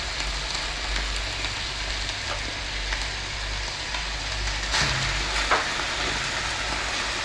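Minced meat sizzles and fries steadily in a pan as blended tomato puree goes in, giving a continuous crackling hiss with a few brief scrapes and splashes, close and moderately loud.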